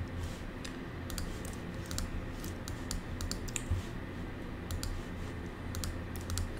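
Steady run of computer keyboard keystrokes while code is typed, close and moderately loud, with irregular clicking rhythm and brief pauses throughout; no voices.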